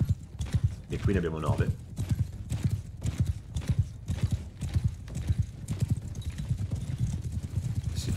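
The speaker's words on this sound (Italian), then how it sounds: "Noi ci portiamo alle spalle del nemico con 4, 8 cavalli, compreso il mio." Cavalry horses gallop in Mount & Blade II: Bannerlord, a rapid rhythmic clip-clop of hooves close and loud throughout, with a brief whinny early on and someone talking over the action.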